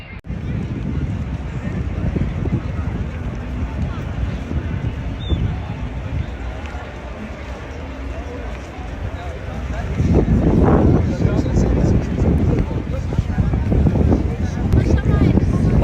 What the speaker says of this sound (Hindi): आज बहुत ठंडी हवा चल रही है मदीने में